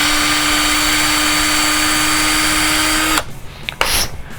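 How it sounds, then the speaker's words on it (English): A drill whines steadily while reaming out a hard plastic Tekno RC car part, running close and loud with a constant pitched tone before cutting off abruptly, followed by a few small clicks and handling sounds. "The Tekno material is a little hard to drill sometimes."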